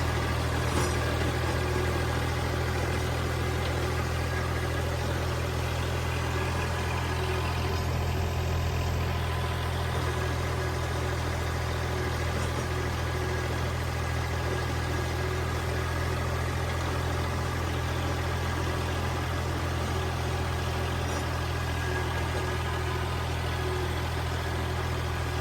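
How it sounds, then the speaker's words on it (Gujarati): Farm tractor engine running at a village field, a steady low droning rumble that stays constant and close for the whole stretch, with no talking over it. "આવી રીતે ટ્રેક્ટર હાલતું હોય"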